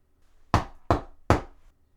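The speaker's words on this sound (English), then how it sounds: "The knocking won't quit." Three firm knocks land on a door at a steady, evenly spaced pace, each a sharp, resonant thud that decays quickly, with quiet between and no voices.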